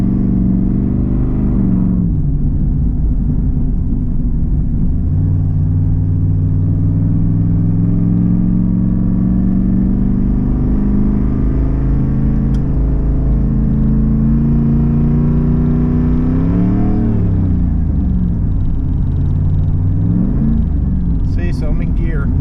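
A third-generation Chevrolet Camaro with a failing transmission revs steadily in gear without moving, a loud close rumbling drone that rises and falls, with people talking over it.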